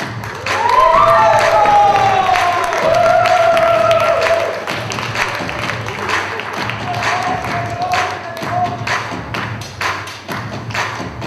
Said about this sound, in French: Et c'est Nestor qu'on applaudit